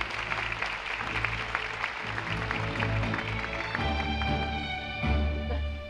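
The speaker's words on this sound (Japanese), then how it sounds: "拍手をお迎えください。" Audience applause welcoming actress Mayu Matsuoka at the 31st Tokyo International Film Festival closing, a steady wash of clapping with low sustained music tones rising underneath partway through.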